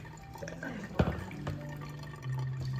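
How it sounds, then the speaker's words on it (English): Water drips and trickles through a paper coffee filter during a Kopi Luwak coffee pour-over, a soft, close, steady liquid sound with one brief louder splash near the start. "Stop and let the water through the paper filter."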